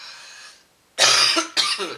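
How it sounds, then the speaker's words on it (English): Two harsh coughs in close succession, loud and near, following a brief faint hiss and a moment of quiet. "I need to cough"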